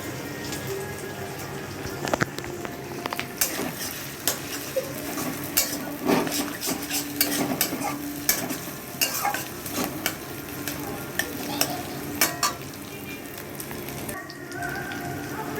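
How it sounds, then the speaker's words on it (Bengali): An egg is poured into a hot pan with softened onions and fries with a steady sizzle while a utensil stirs and scrapes against the pan, giving frequent clinks and scrapes over the continuous frying hiss. "আমি এর মধ্যে একটা ডিম ঢেলে দিচ্ছি।"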